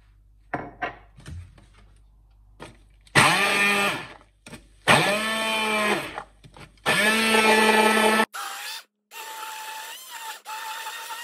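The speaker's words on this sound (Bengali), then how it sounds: "এখন এই যে পেঁয়াজ আর রসুনটা আমি একসাথে হ্যান্ড ব্লেন্ডার" A hand blender whirs through onion and garlic in three loud, separate bursts, its motor whine rising and steadying each time, with short quiet gaps and faint kitchen handling noises in between.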